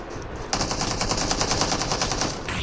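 Rapid automatic gunfire in PUBG on the Miramar desert map rattles loudly in a fast, continuous burst of repeated shots after a brief quieter lead-in.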